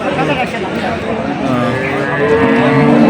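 A dairy cow moos at a cattle market, a long low call rising out of the crowd noise while people nearby talk over it.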